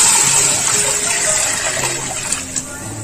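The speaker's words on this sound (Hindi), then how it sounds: "अब इसमें पानी ऐड कर देंगे" Water gushes steadily into a cooking pot of rice being prepared for bagara khaana, a continuous loud pour that slowly eases.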